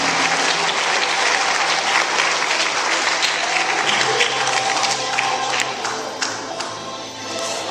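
A crowd at a meeting claps steadily and loudly for several seconds, the applause thinning slightly toward the end.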